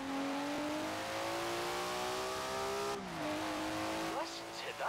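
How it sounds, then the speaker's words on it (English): In Forza Horizon 4, a Datsun car's engine revs loud and close, its tone climbing steadily, dropping sharply with a gear change, then rising again, with faint tire squeal near the end. "Never heard a Datsun sound like that, have you?"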